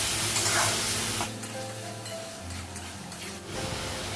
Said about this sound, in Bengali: মশলাগুলো তুলে নেবে না আর একটু ভেজে নেবে মশলাগুলো